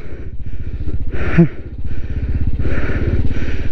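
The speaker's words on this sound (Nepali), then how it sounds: "पहिलो टाइम मैले झुलुङ्गे पुलमा बाइक चलाउँदैछु" A motorcycle rides across a suspension bridge on a solo trip to Latarambeshwor Mahadev, its engine puttering close and steady with a fast, even pulse and brief bursts of louder noise.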